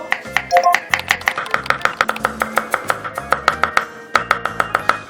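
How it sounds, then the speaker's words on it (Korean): A knife julienning ginger and garlic on a cutting board gives rapid, evenly paced taps close by, a steady run of crisp chops with a short pause before the rhythm resumes, no talk. "먼저 생강과 마늘은 크기대로 채를 한번 썰어서 준비를 하겠습니다"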